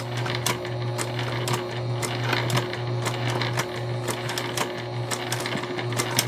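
A sewing machine stitches small holiday fabric pieces with a continuous, close, steady mechanical whir and rapid needle ticking throughout, with no talk over it.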